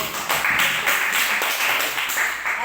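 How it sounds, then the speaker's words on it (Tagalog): A workshop audience bursts into dense, continuous clapping, loud and close, with a steady wash of hand claps and no talk over it. "palakpak tayo muna"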